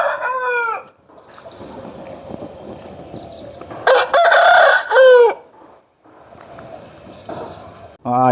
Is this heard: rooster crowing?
yes